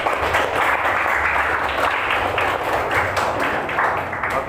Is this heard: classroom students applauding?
yes